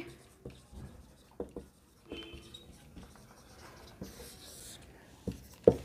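A pen writes by hand on paper in short scratchy strokes with small taps and pauses, fairly quiet and close, with no one talking over it.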